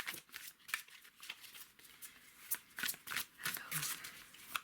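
A deck of tarot cards being shuffled by hand, close and crisp, with repeated riffling flicks and soft slaps coming in quick irregular bursts, with no speech over them.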